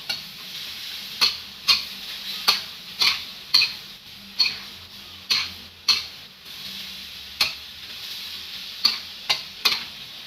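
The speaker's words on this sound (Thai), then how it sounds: "ผัดให้เข้ากันอีกรอบนะจ๊ะ" Spicy Thai seafood stir-fry with herbs and kaffir lime leaves being tossed in a hot pan, a steady sizzle broken by a regular rhythm of sharp spatula scrapes, about a dozen strokes, close and alone.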